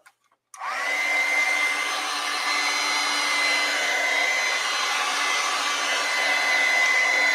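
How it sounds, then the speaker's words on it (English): A heat gun switches on with a click and runs as a steady loud whirring blow to dry acrylic paint, holding an even tone close by with no talking. "Heat gun, dry it."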